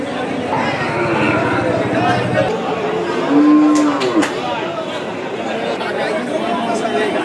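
A crossbred cow with calves lets out a clear, drawn-out moo at a busy cattle market, heard under nearby voices and crowd chatter.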